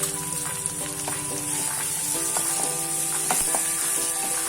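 Masala with finely chopped coriander and half a spoon of turmeric sizzles in a pan. A steady frying hiss runs throughout, and soft stirring scrapes come and go with no talking.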